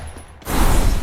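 Shotgun blasts in a video game firefight inside a house, a loud burst of gunfire erupting after a quiet moment and sustaining as dense, booming noise.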